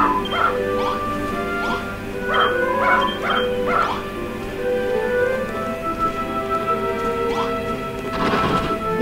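A dog barks and yips several times in short bursts, close by, over a steady background hum with some tonal noise.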